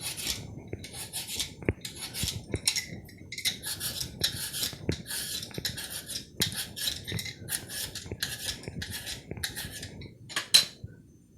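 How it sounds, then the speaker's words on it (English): Sweet potatoes being peeled one after another, giving a close run of about a dozen rhythmic rasping scrapes at a steady pace, with no talking. "I'm going to take each potato and peel each potato like so."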